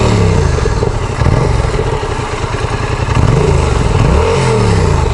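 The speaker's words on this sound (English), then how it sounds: "For those of you who haven't heard the FZ7 exhaust, I know many of you have." A Yamaha FZ-07 motorcycle heard from inside the rider's helmet: a loud, steady engine drone with low rumble and wind roar, pitch swelling in a couple of brief revs while riding.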